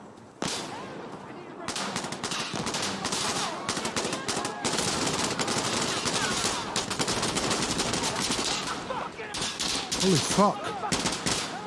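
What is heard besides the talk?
burst-fire gunfire in video game Insurgency Sandstorm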